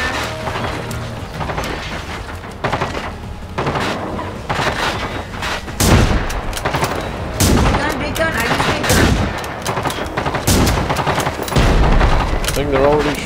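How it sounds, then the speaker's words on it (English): Rapid gunfire in the video game Generation Zero, with bursts of automatic shots and heavy impacts crackling loud and close across the whole stretch, broken by short gaps. "They're already shooting at us."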